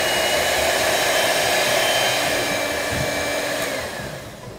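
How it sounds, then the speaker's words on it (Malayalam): An electric hand mixer beats cake batter with a steady, loud, close whirring hum that holds for several seconds before easing off slightly at the end; no voices are heard. "നന്നായിട്ട് ബീറ്റ് ചെയ്തൊക്കെ ഇത് ഏകദേശം ഒരു 3-4 മിനിറ്റ് ബീറ്റ് ചെയ്യണം."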